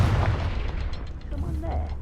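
Confringo fire spell blast in Hogwarts Legacy, a deep booming burst with a rumbling tail, while a voice is heard faintly toward the end.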